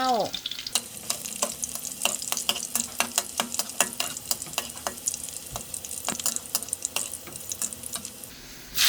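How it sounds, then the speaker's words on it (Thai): Shallots sizzling in hot frying oil in a home kitchen, a steady crackling hiss with frequent sharp spattering pops, close and fairly quiet, with no talking. "ตั้งน้ำมันทอดแล้วก็เอาหอมขาวลงมาเจียวก่อนเจ้า"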